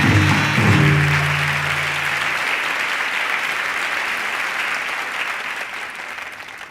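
A television studio audience breaks into loud applause that holds steady and slowly fades as contestants are invited onstage, with a brief musical tone at the start.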